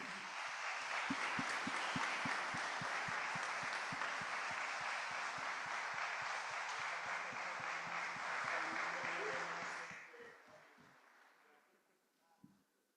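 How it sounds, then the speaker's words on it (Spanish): A hall audience applauds after an artificial intelligence talk in Asunción, dense steady clapping with a few sharper claps standing out, sustained for about ten seconds before fading off, with one faint knock near the end. "Un aplauso"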